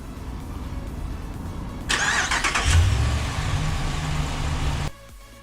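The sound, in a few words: 2016 Dodge Ram 1500 engine remote starting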